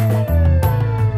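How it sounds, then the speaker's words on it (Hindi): A fire engine siren wails loud and steady for a brief moment, its tone holding with a low rumble beneath. "हे दमकल गाड़ी, आप इतना तेजी से कहाँ जा रहे हैं?"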